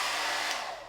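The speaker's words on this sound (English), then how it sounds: "I got my hairdryer out here." A hairdryer blows on its cold setting in a steady, close, loud airy rush that tapers slightly at the end.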